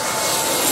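Jet airliner landing low over the beach at St Maarten airport, a loud, continuous broadband engine roar close overhead, steady and slightly swelling.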